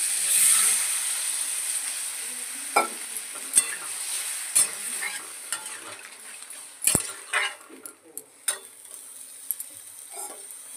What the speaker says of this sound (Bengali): তেলের মধ্যে ভালো করে দেখুন নেড়ে চেড়ে নিয়েছি